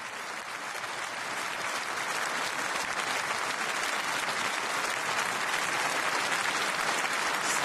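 Standing ovation at the 2012 Nobel Peace Prize award ceremony following the two Nobel lectures, including that of EU Commission President José Manuel Barroso: a dense, loud, unbroken wash of clapping from a large hall audience, steady throughout.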